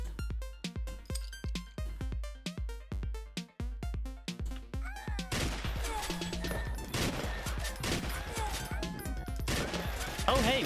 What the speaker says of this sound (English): There we go, tier 3 the assault rifle.